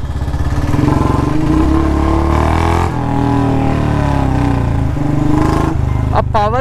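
A motorcycle engine runs close by and revs repeatedly, its pitch rising and falling in surges over a rumbling idle, loud and continuous, with a brief whistling squeal near the end.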